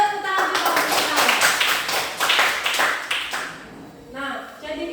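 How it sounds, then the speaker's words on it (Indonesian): A classroom of students claps in a brisk burst of applause for a classmate, fairly close and lively, tapering off into a teacher's voice speaking. "Tepuk tangan juga untuk Sabar."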